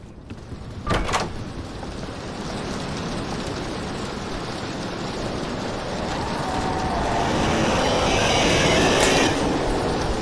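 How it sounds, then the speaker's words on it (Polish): A heavy door opening in a Polish horror video game, a steady rumbling, rolling mechanical noise that swells slightly over ten seconds, with a sharp clack near the start and another near the end, no talk. "Dobra, otwieramy następne drzwi chyba."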